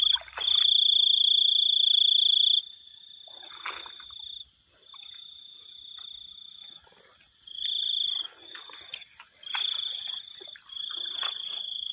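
Shrill insect chirping, with one loud continuous trill at first, then softer overlapping cricket calls pulsing on and off in the background.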